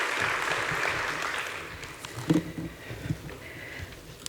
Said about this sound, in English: Let's give Dr. Ngobo another round of applause.